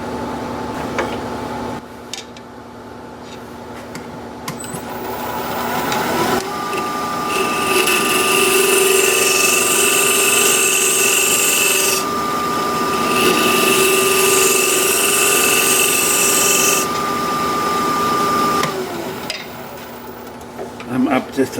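A wood lathe spins while a turning tool hollows out a small wooden box, a loud sustained whirring hum with scraping and a rising, shifting pitch through the middle, ending with brief clicks.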